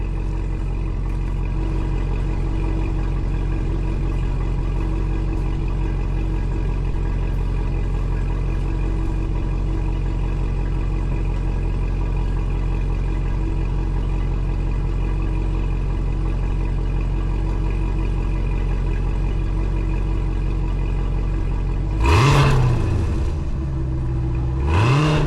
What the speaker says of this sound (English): Now I'm gonna give you a few revs.